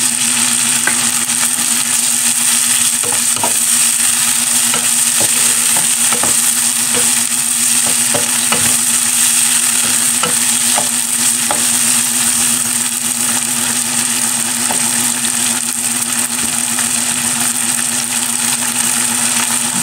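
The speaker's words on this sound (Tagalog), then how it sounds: "Ilalagay ko na po dyan ang pinagsamang toyo at oyster." Vegetables stir-fry in a pan after soy and oyster sauce go in, giving a loud, continuous sizzle with a steady hum and scattered clicks of stirring throughout.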